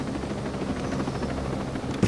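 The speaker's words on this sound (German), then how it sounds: "Da oben ist ein Heli, ich halte den mal im Auge." A helicopter flies overhead in Ghost Recon Breakpoint, its low rotor thrum and engine drone steady and moderately loud throughout, ending with a short sharp knock.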